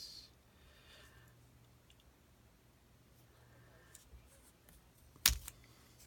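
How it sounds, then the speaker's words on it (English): Scissors cut through a paper file folder with a single quick snip late in an otherwise quiet, faint stretch of room sound. "then I'm going to cut with my scissors"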